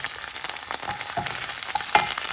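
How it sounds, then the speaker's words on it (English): Chopped onion and garlic ginger paste fry in olive oil in a pan, giving a steady close sizzle with soft stirring scrapes and a couple of brief clinks near the end. "I've got some olive oil in a pan here, and I'm adding 1 onion chopped, and then the garlic ginger paste"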